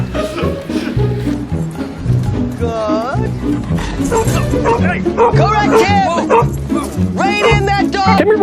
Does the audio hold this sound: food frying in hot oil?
no